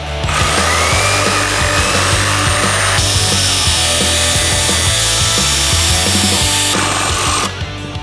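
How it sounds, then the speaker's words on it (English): A jigsaw cuts a coped profile into wooden baseboard molding for an accent wall, a loud, steady buzzing rasp that runs without pause and shifts pitch slightly partway through, then eases off near the end. "follow this line right here with a jigsaw and follow that detail"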